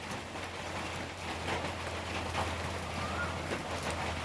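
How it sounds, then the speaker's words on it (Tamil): Steady rain pours down outdoors as a continuous even hiss with a low background hum, with no speech over it. "இப்போ இன்றைக்கி மழை நல்லா பெய்யுதுங்க"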